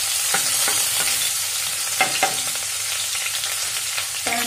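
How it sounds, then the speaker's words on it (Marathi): Ginger-garlic paste with coriander and bay leaf sautés in a pan as a spoon scrapes and stirs, giving a steady sizzle broken by several sharp clinks and scrapes. No voices are heard. "अद्रक लसूण पेस्ट, थोडी कोथिंबीर, तमालपत्र हे छान असं परतून घेते"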